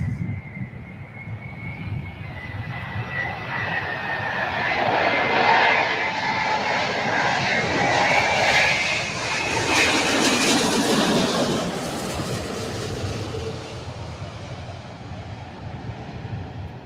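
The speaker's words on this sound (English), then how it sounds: "I think that is the first Dreamliner we've had arrive on the live stream today." A Boeing 787 Dreamliner airliner arrives at LAX, its engine roar swelling steadily and loudly, peaking mid-clip as it passes close, then easing off, with a broad whine over the rumble and no talk.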